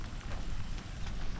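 Steady rain falls along the Kumbhe waterfalls trail in India, a dense, close hiss with scattered drops and no voices over it.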